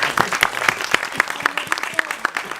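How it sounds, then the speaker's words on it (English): An audience at a fan convention talk by Disney animator Andreas Deja breaks into applause, brisk and loud with sharp individual claps standing out, and a voice is briefly heard over the clapping. "Come on, a big round of applause."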